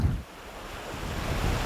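Sea waves and surf roll on continuously, a dense wash of breaking water with gusty wind buffeting the microphone, fairly loud and with no voices.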